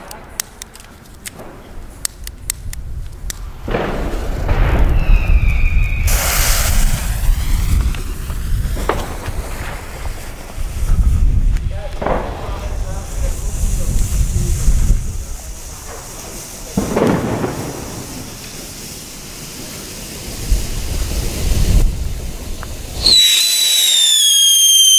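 Funke 3 Schlag Schocker firecrackers burst outdoors in a run of loud, booming reports with rumbling tails and crackle, followed by a sharp whistling shriek near the end, as voices talk between blasts.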